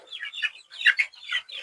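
Kadaknath black chickens cluck in a broken series of short, close calls, held in a tiered cage on a Malappuram farm.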